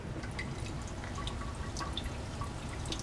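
Bromobenzene drips steadily from an addition funnel into a flask during a Grignard reaction, a string of small, quick drip ticks over a constant low laboratory hum.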